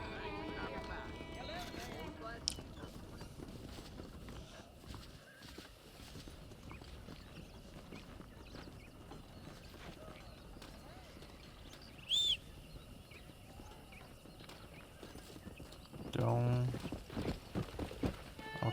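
A horse in the video game Red Dead Redemption moves at a steady clip-clop, its hoofbeats faint and continuous behind quiet ambience, with a brief louder burst near the end.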